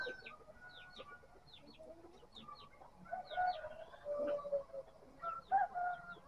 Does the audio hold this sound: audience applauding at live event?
no